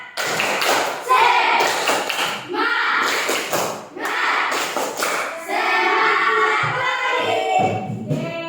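Classroom students perform a rhythmic 'tepuk semangat' routine, bursts of patterned clapping and tapping with brief pauses, mixed with children chanting along loudly.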